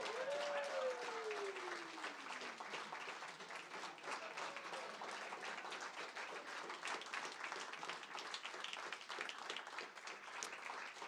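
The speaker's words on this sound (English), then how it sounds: "why don't we give a big round of applause for the people that made this happen." Audience applause at an autism art-expression event, a steady dense wash of many hands clapping throughout, with a brief rising-falling tone near the start.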